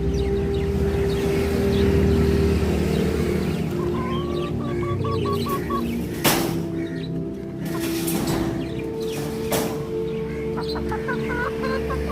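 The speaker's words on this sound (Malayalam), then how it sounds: "നമ്മുടെ കുറുകത്താണിയിലാണ് നാടൻ കോഴികൾ അതുപോലെ ഗിരിരാജ കോഴികൾ" Native and Giriraja chickens cluck and call at a poultry farm in Kurukathani, with steady overlapping clucks and occasional sharper cries over a constant farmyard rumble.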